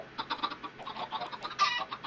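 Chickens clucking in the video game Minecraft, a quick run of short, close clucks and squawks repeating over two seconds with no talk.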